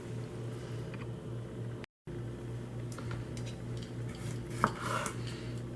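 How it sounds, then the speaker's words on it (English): Knife slicing washed bell peppers on a cutting board for fish tacos, soft intermittent taps and scrapes with one sharper knock near the end over a steady kitchen hum. "So I washed my peppers, and now we're gonna get cutting"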